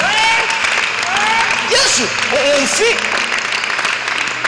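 A congregation at a Sunday church service applauds, crowd clapping sustained throughout while voices call out and talk over it.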